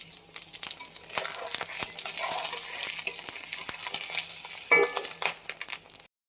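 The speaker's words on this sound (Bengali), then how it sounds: "তেলটা আমার গরম হয়ে গেছে, আমি মাছের ডিম ছড়া মাছের ডিম ভাজতে" Fish roe frying in hot oil in a pan, giving a steady dense sizzle and crackle throughout, with scattered sharp spatter pops and a brief louder burst near the end.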